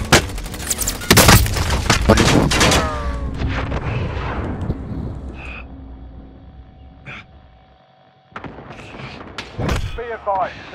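Gunfire in a shooter video game, loud rapid shots clustered at the start, then scattered single cracks and a late burst, with voices talking over the action.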